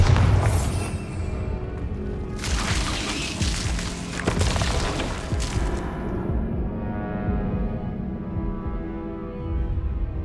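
Bombarda spell blasts in Hogwarts Legacy: loud booming explosions with shattering, crashing debris, two or three heavy bursts that fade into a quieter rumbling tail.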